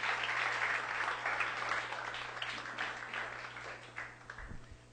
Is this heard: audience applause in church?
yes